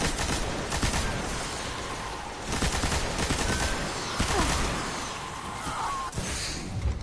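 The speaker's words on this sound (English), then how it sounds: "I think we'll just machine gun our way through this area." Rapid bursts of machine gun fire in the video game Destiny, repeated volleys of crackling shots in several clusters over a dense continuous background of in-game noise, fairly loud and without talk.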